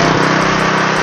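A Philking PK160A portable inverter welding generator runs nearby with a loud, steady, high-pitched engine drone and a slight rhythmic pulsing throughout.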